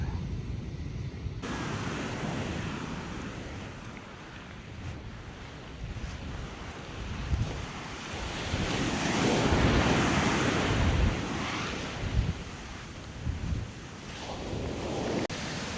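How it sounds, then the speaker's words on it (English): Ocean surf breaks on the beach at Lagoa de Albufeira in Portugal, a broad continuous roar of waves rising and falling in slow surges, loud and close with wind buffeting the microphone. "Just listening to the sound of the waves is so peaceful."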